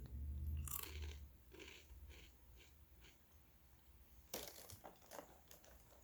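Crunchy chewing of Reese's Puffs Cluster Crunch cereal eaten dry, close to the mic, with a loud bite near the start and another burst of crunching later, separated by softer mouth sounds.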